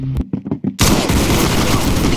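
Gunfire from a shooter video game: a brief voice, then a loud, sustained burst of shots rings out close and dense for over a second.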